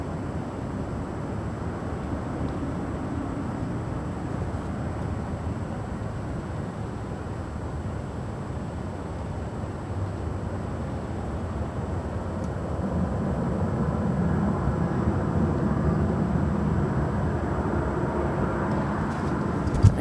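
A Boeing 767 lands on runway 24 right at LAX, a steady broad jet roar that swells louder toward the end as the airliner passes near.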